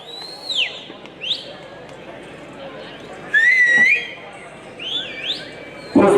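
Spectators whistle at an outdoor kushti wrestling match in Sangli, with shrill rising and falling whistles sounding one after another, some long and loud, over a murmuring crowd.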